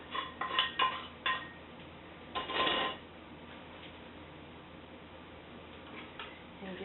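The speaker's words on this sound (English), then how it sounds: "And give that a good stir." Mushrooms stirred into a celery root mash with parsley in a pan, a few close clinks and scrapes of a utensil against cookware early on, then a quiet stretch, with faint talk in the background.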